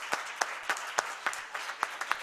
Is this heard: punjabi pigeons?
no